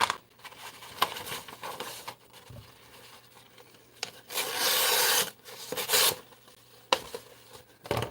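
A sharp, freshly unboxed knife blade cuts through material, producing scraping, rasping strokes and rubbing sounds, with one longer, louder slicing pass midway and a few sharp clicks, close up and without speech.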